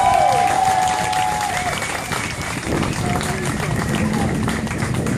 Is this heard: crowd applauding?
yes